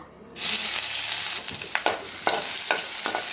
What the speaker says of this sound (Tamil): இதில் இப்போ நம்ம இடித்து வச்சுருக்க சோம்பு பூண்டு பல்ல சேர்த்துக்கிறோம்.